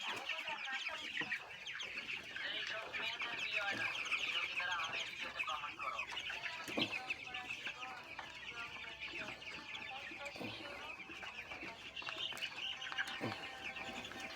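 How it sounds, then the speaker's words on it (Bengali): Broiler chickens on a poultry farm of about 500 birds, around 16 days old, cluck and chirp continuously in a busy flock chorus, fairly faint and steady throughout. "মুরগি দেখতে অনেক সুন্দর লাগছে।"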